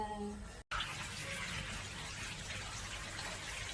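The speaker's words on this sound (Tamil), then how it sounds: "இப்ப தண்ணி விடுறேன்" Water from a tap or hose pours steadily into a freshly cleaned fish tank, a continuous soft gushing wash that starts after a brief cut and runs evenly and close at low level.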